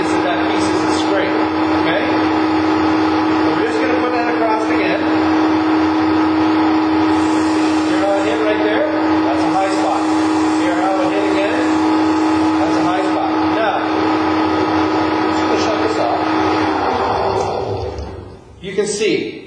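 Flatmaster drum sander running steadily with a loud motor drone and a sustained hum, with faint scraping as it sands a piece, continuing unbroken before winding down near the end.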